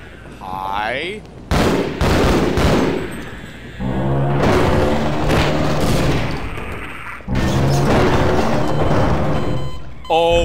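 Grenade blasts and gunfire in Half-Life: Source, with several loud booming explosions and rattling shots bursting in sequence, each ringing out and decaying.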